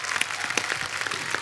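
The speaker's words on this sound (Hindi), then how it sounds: "जोरदार तालियां।" Studio audience applause on a TV comedy show, a short, bright burst of many hands clapping together, loud and continuous, with no talking over it.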